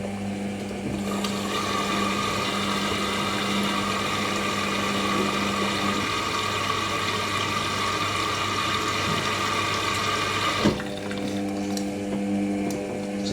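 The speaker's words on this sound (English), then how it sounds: "Slowly absorbs the load of water and then it gets rid of the suds." An Indesit WIDL102 washer dryer running a 90ºC whites prewash takes in water with a steady, even rush and hum that changes tone near the end, with no talking.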